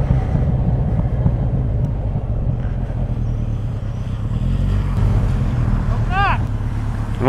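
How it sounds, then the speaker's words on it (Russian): A motorcycle engine rumbles steadily and loudly as the throttle grip is twisted slightly, producing a constant low idle-like drone with some wind noise and a faint brief chirp late on. "вот на сантиметр выкручиваю ручку"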